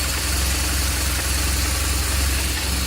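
A 2004-era BMW R1200GS boxer-twin motorcycle engine idles right after starting, a loud, close, steady low throb with an even pulse throughout and no talking.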